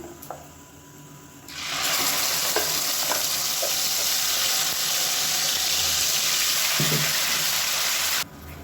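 Oil with spices for Dindigul-style mushroom biryani crackles quietly, then bursts into a loud, hissing sizzle as a ground paste goes in. The sizzle holds steady for several seconds with a few utensil clicks before cutting off abruptly.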